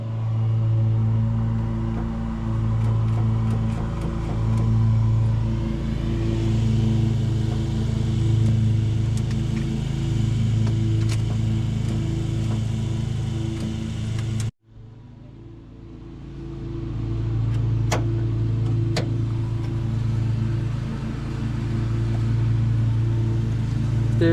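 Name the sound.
1993 Ford F150 engine cranking, turning over after decades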